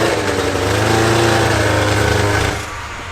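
Vintage snowmobile engine running with a rough-sounding clutch, out in the snow; a loud, close, buzzing small-engine roar with a slightly uneven pulse, then dropping off sharply to a lower idle near the end.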